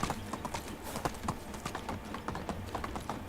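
Horse hooves clip-clopping in a steady trotting rhythm while riding in the Medieval Dynasty video game, moderately faint and continuous with no talk.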